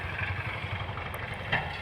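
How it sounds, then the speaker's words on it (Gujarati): A tractor engine rumbles at a steady low pitch as it arrives on a farm, moderately near and even in tone throughout the short moment, with no talking. "ટ્રેક્ટર આવી ગયું"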